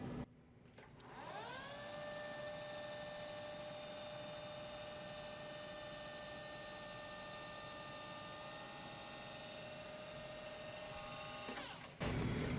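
A lathe in a home shop hard-turns a precision bushing at about 1500 RPM, taking a 0.2 mm pass, giving a steady, close whine with bright harmonics for around eleven seconds before it cuts off.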